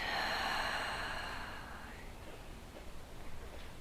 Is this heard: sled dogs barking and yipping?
no